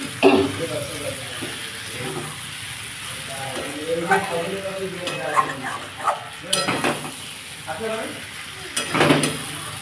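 Potato and parwal curry with prawns sautés in a pan with a moderate sizzle and repeated scraping and clattering of the spatula, while a voice hums or murmurs nearby between the strokes.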